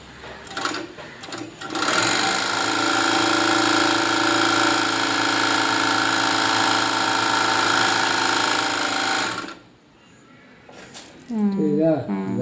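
Bravo overlock sewing machine running loudly and close for about eight seconds with an even, steady mechanical hum, then stopping, after which a person speaks.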